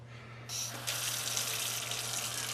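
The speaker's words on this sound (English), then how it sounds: "Get your water running, and you know, just kind of rinse them off." Tap water starts running and gushes steadily into a sink to rinse chicken of the woods mushrooms, a close, continuous splashing stream with no talking.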